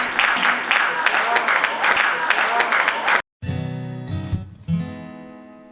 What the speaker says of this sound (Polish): Sala wypełniona po brzegi, szczere oklaski i przyjemna atmosfera wydarzenia